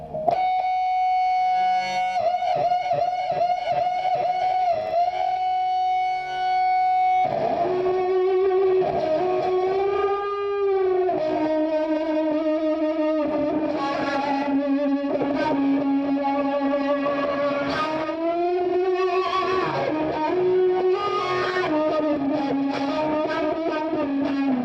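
A distorted electric guitar plays sustained, gliding notes and bends, thick and saturated, loud and continuous with no voices.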